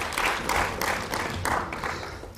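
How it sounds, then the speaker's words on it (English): An audience applauds at a high-level PAP-NEPAD conference on food and nutrition security, with steady, fairly loud clapping in several surging waves and no talk. "Okay, an applause to Honorable Nahas."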